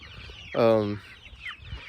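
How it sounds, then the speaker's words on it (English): A single close, loud cluck from a chicken, brief and sharp, against a quiet background with faint peeping. "Look at all these little chickens."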